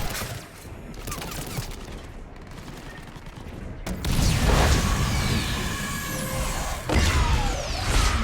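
Gunfire and explosions in the video game Mass Effect 3, dense bursts of shots and booms that build and grow louder midway, with heavy impacts and sweeping effects layered over a game soundtrack.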